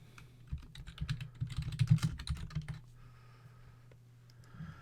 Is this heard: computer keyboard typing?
yes